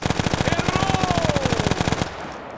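Rapid automatic gunfire in an online battle-royale video game, a steady fast burst of evenly spaced loud shots lasting about two seconds and then cutting off, with a faint tone sweeping beneath.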